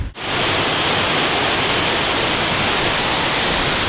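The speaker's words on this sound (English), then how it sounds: "So, this is it. This is the waterfall." A waterfall roars as a steady, loud, broadband rush of falling water, close by and unbroken, with no talk.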